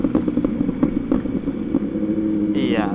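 An MV Agusta SV2 motorcycle engine revs with a rough, pulsing exhaust note and a run of sharp pops, close and loud, ending in a rising whine, with a voice talking underneath.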